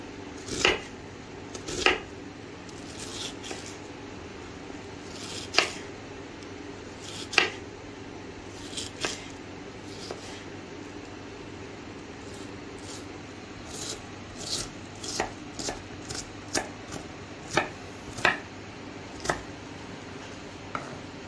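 Onion being chopped medium-fine on a board, a series of crisp knife taps spaced irregularly, with quicker clusters toward the end over a quiet room hum.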